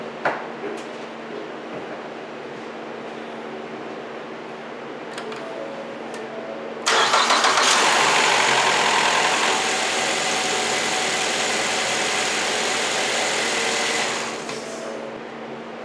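A 2014 Ford Fusion engine cranks and catches, jumping to a loud, steady idle with a high whirring, ticking tone that holds for several seconds before easing down slightly near the end.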